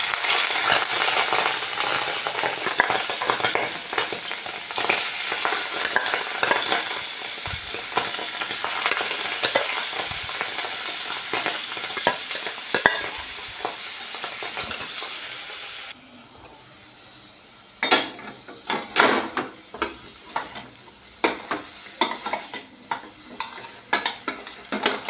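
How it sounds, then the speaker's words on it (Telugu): Soaked ingredients for a paneer curry fry in a little oil in a pan. A steady, loud sizzle runs for a long stretch, then gives way to intermittent clattering stirring and scraping. "ఇలా కొంచెం ఫ్రై చేసుకుందామండి."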